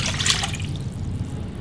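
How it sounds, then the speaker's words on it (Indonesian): Water poured into a cooking pot, a steady close trickle and splash that runs the full short moment, brightest at the start and settling into a continuous liquid wash. "Masukkan air 400 ml"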